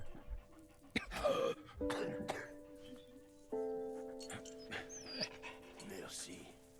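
A puppy in the video game Valiant Hearts pants and whimpers close up, breathy bursts mixed with soft yips, heard under talk and steady game music tones.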